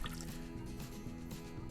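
Beef broth is poured into an Instant Pot, giving a close, steady gurgling splash of liquid hitting the hot pot bottom over a short moment.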